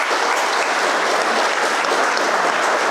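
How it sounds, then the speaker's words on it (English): Graduation ceremony audience applauding steadily, a dense, loud wash of many hands clapping without pause throughout, no voices over it. "please give him a round of applause"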